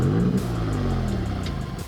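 A Maserati MC20 sports car engine revs close by, a loud, sustained growl that rises and then settles, heard alone for about two seconds.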